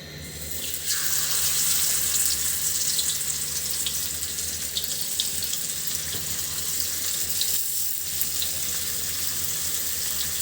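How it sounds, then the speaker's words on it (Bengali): Fish pieces frying in oil in a kadai over a medium flame, a dense, continuous hiss and crackle close by that holds steady for about ten seconds, loud and with no one talking. "তো মাছ ভাজির জন্য এখানে কড়াইটা বসিয়ে দিচ্ছি। এখন হলো এর ভিতরে মাছগুলো দিয়ে দিচ্ছি।"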